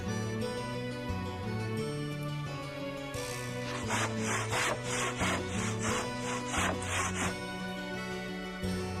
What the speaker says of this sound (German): Können wir den vielleicht umsägen?